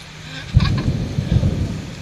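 Thunder rumbles through steady rainfall during wet-weather eel fishing outdoors, with two deep, heavy rolls rising over the continuous hiss of rain.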